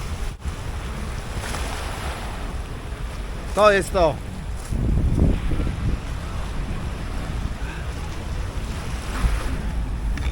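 Black Sea waves wash onto the shore at Batumi, Georgia, a steady broadband surge with wind buffeting the microphone throughout, and a voice speaks briefly midway.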